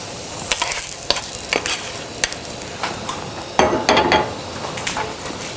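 Caramelized onions and vegetables stirred into a polenta casserole in a pan, with a soft background sizzle and repeated scraping, clacking strokes of a utensil, close and fairly loud, with a stronger burst of scraping toward the end.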